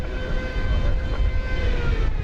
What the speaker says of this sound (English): Are they turning off that air start?